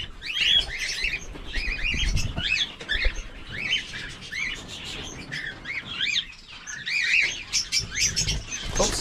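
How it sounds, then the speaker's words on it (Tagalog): Macaw parrots squawk and screech repeatedly nearby, harsh raucous calls overlapping in irregular bursts with some low handling noise underneath. "Yung mga Macau."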